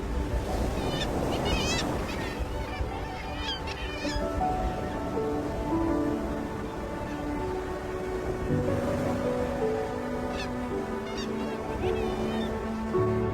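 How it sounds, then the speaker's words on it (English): Seabirds call from the cliffs on Mykines in the Faroe Islands: a dense, echoing chorus of overlapping squawks and cries that continues throughout and rises and falls in waves. "you can already hear bird calls echoing from the cliffs"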